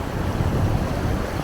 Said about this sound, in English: as you probably can hear, it's nice and windy here as well now